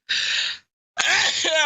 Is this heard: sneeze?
yes